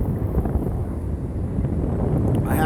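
Steady wind buffets the microphone at a beach with a high tide, a low, continuous rumble that lasts throughout with no clear speech over it.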